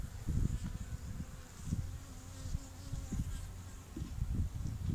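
A honeybee swarm buzzing in a front yard, a close, continuous droning hum with bees passing near in pulsing swells, no talk.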